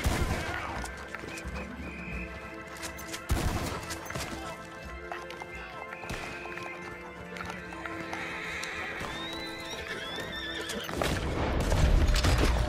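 A horse in Red Dead Redemption 2 neighs and whinnies several times over clip-clopping hooves and game action, with crashes and rising noise near the end.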